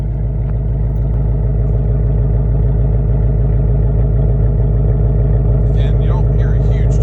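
A 2024 Mustang with an MRT H-pipe and factory active exhaust idles with a steady, deep, rhythmic burble close by, loud and unbroken throughout, with a voice talking over it.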